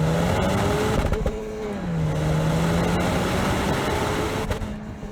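A 2020 Honda Civic Si engine, its roar enhanced through the car's audio system, hums steadily and then shifts pitch as it revs under hard driving, loud and continuous for about five seconds with no voices.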